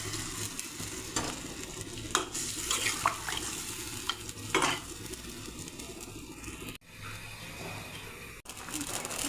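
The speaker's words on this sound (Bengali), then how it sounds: "এখন ঝোলের জন্য গরম জল দিয়ে দেব, পরিমাণ মতো জল।" Hot water is poured into a simmering cauliflower, potato and fish curry in spiced oil, setting off a loud, steady sizzle with liquid splashes and stirring scrapes, close up.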